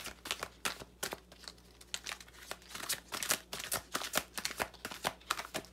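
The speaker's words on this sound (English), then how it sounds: "let's just kind of grab us one of these cards for Pisces" Large oracle cards handled and shuffled close by, giving a rapid series of papery riffles, slaps and rustles with an uneven rhythm.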